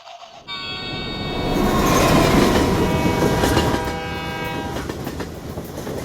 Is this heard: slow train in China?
yes